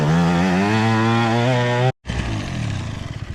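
A motocross dirt bike revs hard with a rising, buzzy engine whine, cuts out abruptly, then roars back at a lower, rougher pitch as it rides on, loud and close.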